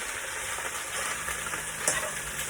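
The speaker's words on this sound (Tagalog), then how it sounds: "Haluin natin kasi ang purpose nito bakit dinahalo natin para pantay ang kanyang pagkaluto" Seafood pancit canton noodles with bihon being stirred in a hot pan, a continuous low sizzle with soft scraping and one brief sharper clink near the end, fairly quiet and without talk.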